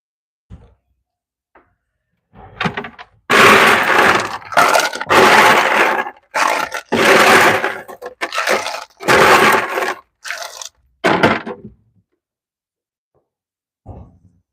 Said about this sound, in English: Okay, I'm getting ice.